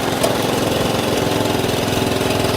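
A vintage road-legal lawnmower engine, running with a slight oil leak, putters at a steady, loud idle. The rhythmic chugging pulses continue evenly throughout, with no voices.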